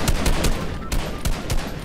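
Rapid gunfire from the player's weapon in Fortnite, a quick string of punchy, close shots in a fast irregular rhythm, about seven bursts in under two seconds.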